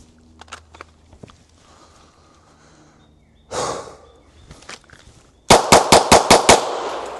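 Pistol fire with reloaded practice ammunition on a shooting range: a single loud shot, then after a pause a quick string of about six sharp, evenly spaced shots close by, with quiet shuffling between.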